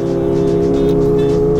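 A Kawasaki ZX25R with a quick shifter and Leo Vince exhaust keeps up a loud, steady high-revving engine drone that stays close and constant throughout.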